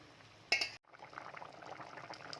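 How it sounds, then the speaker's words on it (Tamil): Sardine fish curry boiling in a clay pot makes faint, close bubbling and gurgling, briefly broken by a short clatter and a moment of silence, with no one talking. "நல்லா குழம்பு கொதிச்சிருச்சு மீன்லாம் நல்லா வெந்துருச்சு"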